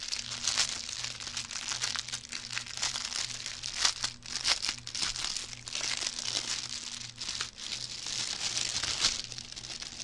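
Plastic packaging on cross stitch and diamond painting kits crinkles and tears steadily for about ten seconds, a close, continuous rustling with a faint low hum underneath and no talking.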